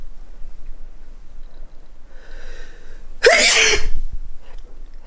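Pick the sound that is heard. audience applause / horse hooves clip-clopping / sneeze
sneeze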